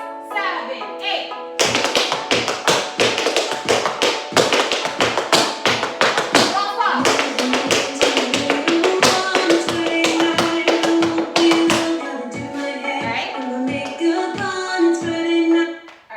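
Tap shoes strike the floor in a fast rhythmic sequence of sharp clicks and heel thuds during an intermediate to advanced tap dance routine. Close and crisp, under steady pop music.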